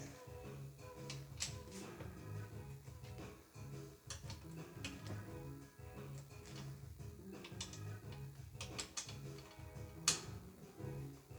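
A ratcheting torque wrench tightens crankshaft main bearing bolts on a Yamaha TDM engine, giving repeated close clicking strokes in an uneven rhythm with one sharper click near the end.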